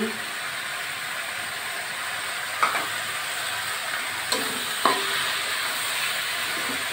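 Green chilies go into hot oil in a pan while cooking taro leaf curry, giving a steady, close sizzle with a few sharp clinks of a utensil against the pan, and no voices.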